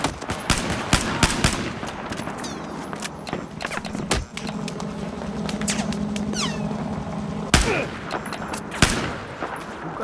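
Battlefield 4 gunfire in a busy game mix: rapid bursts and single sharp shots over a dense, continuous background of combat noise, with other sharp game effects cutting through.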